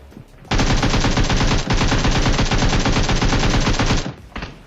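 Sustained rapid automatic rifle fire from M4 and AKM rifles in a battle-royale style video game, a loud, dense burst lasting about three and a half seconds, with a brief short burst after it and no talk.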